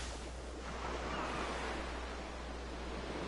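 Soft, steady wash of waves from the video game Final Fantasy X, a faint continuous surf rush with no distinct breaks and no talking.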